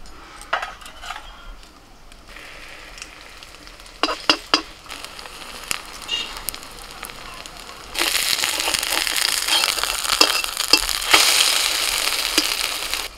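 Something frying gently in mustard oil in a kadai over a low flame: a soft, steady crackle with scattered clinks that swells into a louder, denser sizzle partway through, with no talk.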